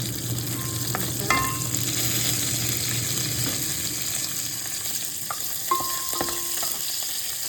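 Minced meat sizzles and fries in a pot on a stovetop, making a steady close crackle while a utensil stirs and scrapes through it, with light clinks of metal against the pot.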